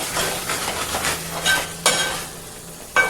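Spinach and ground coriander frying in oil with salt, stirred in a pan: a steady sizzle with repeated scraping strokes and a few sharp utensil knocks against the pan.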